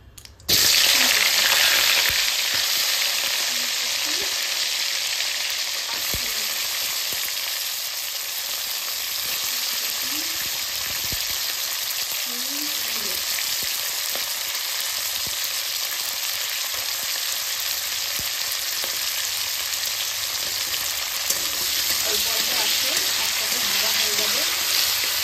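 Cauliflower and radish pieces fry in hot oil, giving a loud, continuous crackling sizzle that starts abruptly and carries on steadily throughout.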